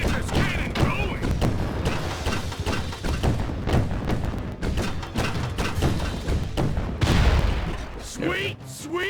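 Cannon fire in the video game Sly 4: Thieves in Time, a rapid series of loud booms, thuds and crashing impacts in irregular bursts, with a person talking over the barrage.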